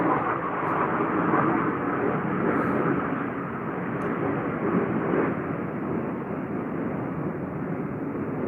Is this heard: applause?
no